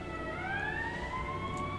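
Ambulance sirens wail outside a house, a steady rising-and-falling tone that carries clearly and continuously throughout, with no talk over it.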